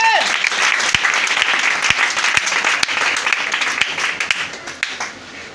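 A church congregation breaks into loud, sustained applause to acclaim the Lord, many hands clapping densely together before the applause thins and fades toward the end.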